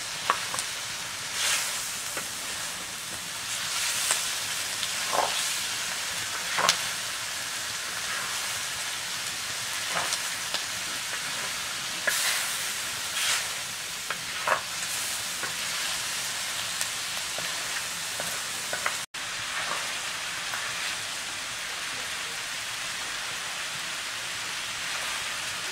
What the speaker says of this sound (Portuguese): tá fritando o bicho lá